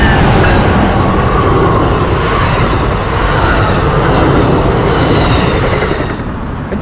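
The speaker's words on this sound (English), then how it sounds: "Oh, we got a train coming." A Coaster commuter train roars past up close in Cardiff-by-the-Sea, Encinitas, California, a loud continuous rush of wheels and rattling that begins to fade toward the end.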